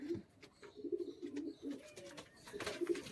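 Pigeons coo in soft, repeated low throaty bursts close by, a male bird among several in a loft of green Giribaz and other pigeons, with faint chirps and rustles around them.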